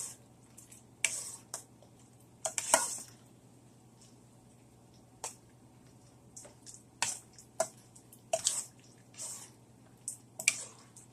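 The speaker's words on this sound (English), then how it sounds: "Now, just stir it around." Cheese melting in a pot is stirred, giving scattered wet clicks and soft squelches at an irregular pace, close and fairly quiet over a low steady hum.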